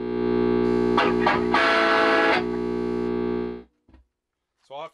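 A Trainwreck Liverpool guitar amplifier at its first startup: a loud sustained tone with a buzzy distorted edge and a harmonic hum, swelling briefly in the middle, then cutting off into silence before a short return at the end.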